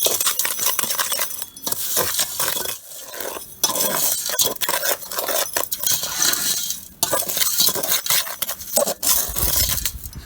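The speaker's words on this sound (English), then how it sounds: "we're going to get a smaller shovel and just mix everything up" A small shovel mixes cactus soil with sand, a loud, close, gritty scraping and crunching that repeats in uneven strokes with brief pauses between them.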